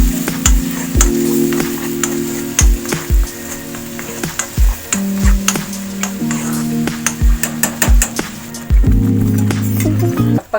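Oil sizzles in a cast appe pan while appo is cooked, a continuous hiss under loud background music, with scattered sharp clinks and taps of a utensil against the pan.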